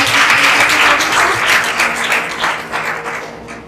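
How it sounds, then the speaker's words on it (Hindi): An audience breaks into a burst of clapping during a bilingual English and Hindi talk on knowing God, loud at the start and gradually thinning out over a few seconds. "Please give a big hand."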